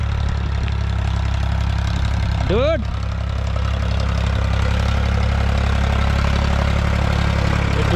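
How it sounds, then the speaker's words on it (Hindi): A tractor engine runs steadily while ploughing a field during paddy planting, a constant loud low rumble close by, with a brief squeal or bird-like call rising over it and a short spoken word. "उधर हल चला रहे हैं पापा और इधर खेत को मैं जोतवा रहा हूँ ट्रैक्टर से।"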